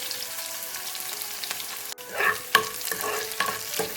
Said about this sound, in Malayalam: ഇതിലേക്ക് 1/2 ടേബിൾ സ്പൂൺ കടുക് കൂടി ഇട്ട് കൊടുക്കാം. ഒരു 4-5 ചെറിയ ഉള്ളി അരിഞ്ഞതോടെ ചേർക്കാം.